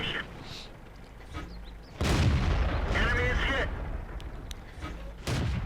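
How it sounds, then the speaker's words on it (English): Tank cannons firing in the online game World of Tanks, including a StuG III and an M4A3E2 medium tank, heavy booms landing in bursts with someone talking over the gameplay. "you can also hear that the Stug 3's gun has a meaty sound, and mine is kind of like a pop"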